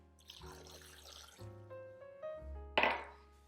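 One cup of water is poured into a mixing bowl while making a vegan Oreo cake, giving a few short, close pours and splashes with gurgling tones between brief pauses.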